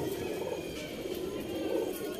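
Pigeons in a loft give a soft, steady cooing and bird calls throughout, at moderate distance with a low background hum and no talking.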